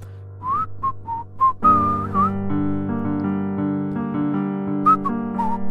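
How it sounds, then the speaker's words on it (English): Whistled melody over piano chords, short whistled notes first, then a sustained tune carried above held piano harmony, close and clear with no talking. "I thought I could maybe whistle while playing."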